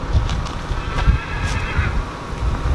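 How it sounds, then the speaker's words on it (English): A horse whinnies close by at a rodeo round-up, with a loud, wavering neigh over hoof clops and wind noise. "It's a horse."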